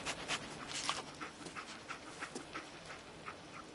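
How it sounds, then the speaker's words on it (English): Dogmeat, the dog companion in Fallout 4, pants in quick rhythmic breaths, steady and fairly faint against a low game background. "Dog meat. Get the scent, boy."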